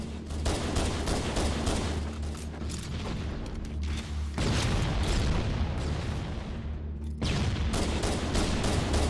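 Video game gunfire from a sniper rifle, heavy booming shots over a constant dense wash of battle noise, with loud sharp bursts and a brief drop in intensity midway before the barrage resumes.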